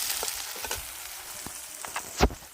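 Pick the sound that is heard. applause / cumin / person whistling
cumin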